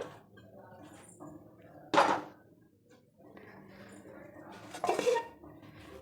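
A metal pot clanks down twice onto a kitchen surface to cover resting dough for chandrakala, each placement a sharp, ringing clatter, with someone talking softly in between.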